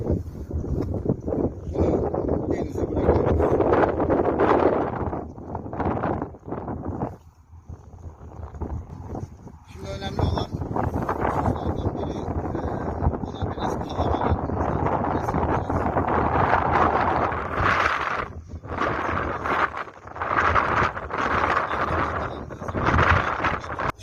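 Steady, loud wind buffets the microphone throughout, with rumbling gusts and a brief lull in the middle; no one speaks.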